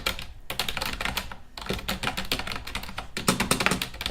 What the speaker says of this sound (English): the other reason why I got this keyboard is for that clicky sound